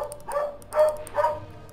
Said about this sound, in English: as you can hear, my dog is barking